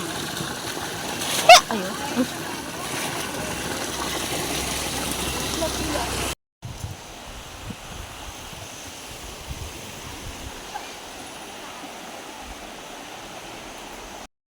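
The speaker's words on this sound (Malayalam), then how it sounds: "ഇവിടെ പുഴ, തോടുകൾ, അരുവികൾ, അതിൻ്റെ ബാലൻസ് ഇതാ ഇതിലേ ഒഴുകുന്നു" Water rushes steadily in a continuous broadband wash, loud and close, with one brief splash early on and a short cut partway through.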